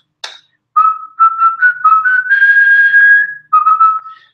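A person whistles a short, clear melody up close, a run of bright notes rising into a long held tone, then a few more quick notes.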